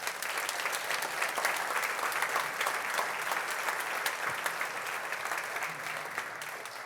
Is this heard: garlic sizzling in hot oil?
no